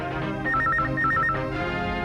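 A telephone rings with two short bursts of a rapid warbling electronic tone, close and clear over a dense musical background in a Telugu film scene.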